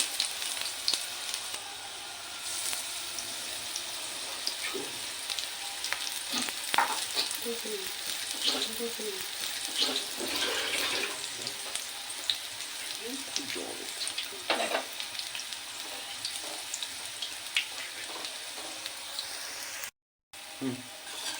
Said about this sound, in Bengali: দেখুন আমাদের দুদিকটাই ভালো করে ভাজা হয়ে গেছে কি সুন্দর খড়মড়ে হয়েছে